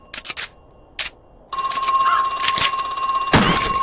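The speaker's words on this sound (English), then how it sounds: "We're not going to answer that phone." A telephone rings in the horror video game Crow Country, a sustained electronic ring that starts after a few soft clicks and keeps going steadily and clearly to the end.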